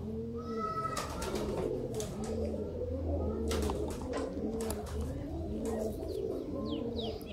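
Sialkoti pigeons cooing in a loft, repeated rhythmic low coos from several birds close by, overlapping in a steady pulse, with occasional sharp chirps and faint background noise.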